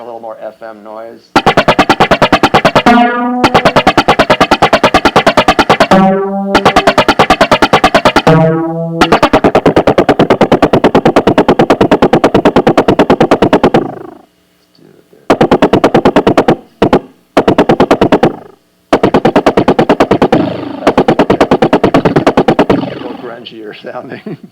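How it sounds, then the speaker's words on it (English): Synclavier Go synthesizer tones, bit-reduced and roughened with added FM noise, play loud, harsh and gritty in repeated bursts with short gaps, a chattering, distorted texture throughout. "Add a little more FM noise."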